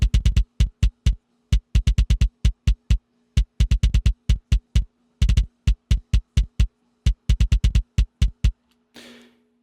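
Sliced kick drum hits play back from Studio One, each a sharp transient with a short low thump, fired in quick uneven bursts of two to five with brief gaps, loud and dry, ending in a faint noisy tail.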